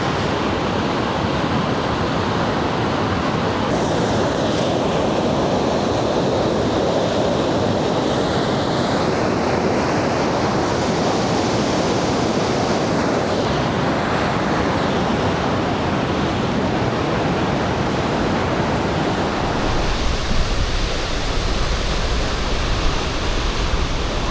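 Strong rushing water beside a hiking trail in Yosemite, California, a loud, continuous broadband roar with some wind buffeting that stays steady throughout, no voices.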